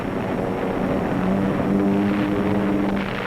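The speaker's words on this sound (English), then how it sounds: "RAF Lancasters wing their way toward Dresden in a massive blow involving more than 800 heavy bombers" RAF Lancaster heavy bombers in flight toward Dresden, part of a raid of more than 800 aircraft, a loud continuous droning engine roar with steady humming tones and no break.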